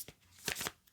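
A deck of tarot cards is riffled and shuffled at close range in a couple of quick rustling bursts, the papery flutter rising and falling within a second.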